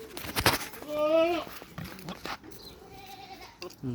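Bleating of a seven-month-old Boer goat, a clear wavering call near the middle, with fainter animal sounds and brief noises around it on a farm.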